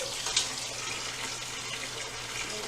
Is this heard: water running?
yes